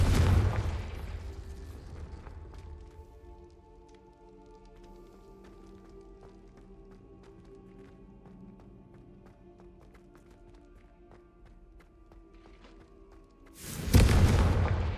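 The Confringo blasting spell in the video game Hogwarts Legacy: a loud explosive burst opens the clip, a quieter rumbling, clattering stretch follows, then a second sharp blast comes near the end.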